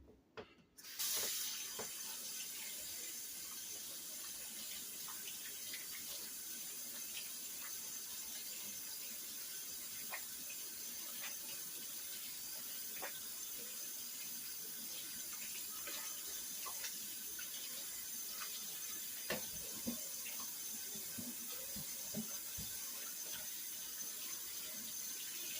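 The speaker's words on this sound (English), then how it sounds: "Let me wash my hands." A kitchen tap runs steadily into a sink during handwashing, a continuous close splashing stream with occasional faint clinks and no speech.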